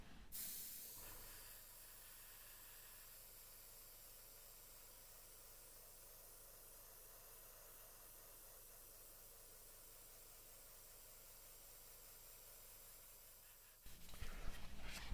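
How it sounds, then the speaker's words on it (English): Primer sprays in one long, steady airbrush hiss onto a 1/48 scale Airfix Supermarine Seafire F.XVII model kit, holding an even level for about thirteen seconds before cutting off, with no talking. "I'm going to give it a quick coat of primer, just so I can double check the joints"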